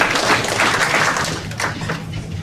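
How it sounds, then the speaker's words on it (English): An audience at a political candidates' night forum breaks into a steady round of applause. The clapping is dense and continuous and stays at a fairly even loudness throughout. "So everybody, give a round of applause."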